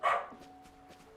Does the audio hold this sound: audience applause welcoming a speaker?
no